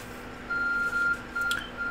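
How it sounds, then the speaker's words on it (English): Electronic beeping from the Arc Phone in Pokémon Legends: Arceus, steady high tones pulsing on and off in short bursts over a soft background hum. "Your ARC phone is beeping."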